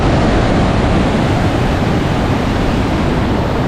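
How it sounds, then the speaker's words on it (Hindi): The Baitarani river in heavy flow, a loud, steady rush of water that fills the whole clip evenly, with no voices over it. "पानी का फ्लो बहुत हैवी है, बहुत।"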